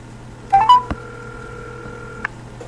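A telephone keypad sounds a short run of rising dialing tones, then a sustained steady tone with a click and a second brief click later, clear and close with no talking.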